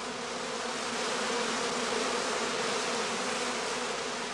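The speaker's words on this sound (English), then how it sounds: "They collect to form a swarm cluster of increasing size." A honeybee swarm clustering under tree branches gives off a dense, steady, continuous buzzing hum from many bees at once, full and even throughout, with no voices.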